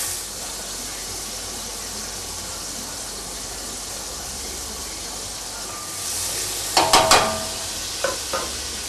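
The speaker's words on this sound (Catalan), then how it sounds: "Anem remenant de tant en tant" A cep mushroom cream sauce made with cooking cream bubbles and sizzles steadily in a pot, then a spoon scrapes and stirs with a few clinking knocks near the end.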